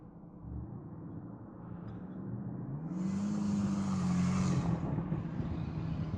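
A McLaren supercar engine rumbles steadily nearby, swelling louder midway with a rising tone as it revs, then settling into a sustained drone.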